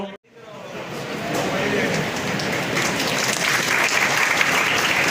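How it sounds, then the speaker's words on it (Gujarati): Audience applause at a Kheda district police get-together honouring students, a sustained crowd clapping that swells after a brief dip and stays steady and loud throughout. "દરેક બાળકોને આપણે તાળીઓના ગણગણાટથી વધાવતા રહીશું"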